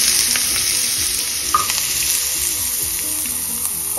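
Onion sautés in hot oil with bay leaf, cinnamon sticks and curry leaves for a chicken semi gravy, a close, even crackling sizzle with occasional stirring scrapes and a brief clink.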